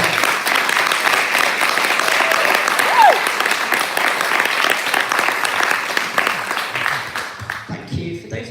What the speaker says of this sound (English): Do you want to give her a round of applause?